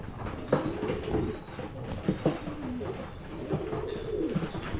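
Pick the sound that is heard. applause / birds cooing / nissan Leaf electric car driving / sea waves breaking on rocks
birds cooing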